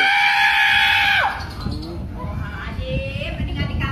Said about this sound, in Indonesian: jangan teriak-teriak ngapa?